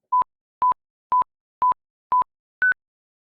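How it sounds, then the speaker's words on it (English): A laboratory tone sequence of six evenly spaced short electronic beeps: the first five share one pitch, and the sixth jumps noticeably higher as an oddball, each beep clean and alone against silence. "it ends in a surprising or different novel tone frequency"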